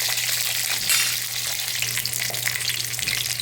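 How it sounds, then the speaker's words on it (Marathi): Capsicum stir-fried in oil in a kadhai, a loud continuous sizzle with faint scraping of a spoon tossing the pieces, no voices. "मस्त ही हालवून घ्यायची वर खाली करून घ्यायची व्यवस्थित आणि याला चांगले असे डाग पडेपर्यंत आपल्याला तेलामध्ये परतून घ्यायचे आहे"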